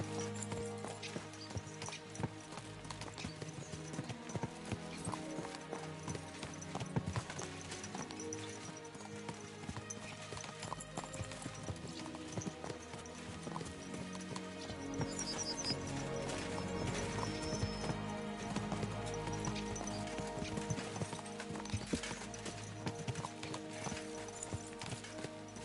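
Horses galloping in the video game Kingdom Come: Deliverance II, hooves clip-clopping in a steady rapid rhythm under a constant layer of game music, with a brief whinny and no talk.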